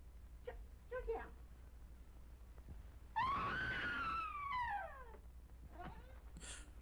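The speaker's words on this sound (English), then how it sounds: "That was a good Fay Wray scream, actually." A woman's long, high rising-and-falling scream from an old black-and-white vampire horror film, loud and sustained for about two seconds, with faint low hum and brief murmurs before and after.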